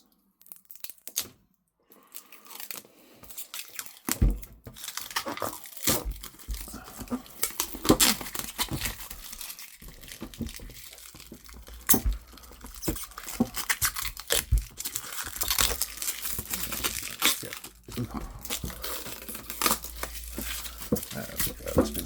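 Cellophane wrapping is crinkled and peeled off Dalek model parts in a kit build, giving a long close run of rustling, crackling and tearing with uneven bursts.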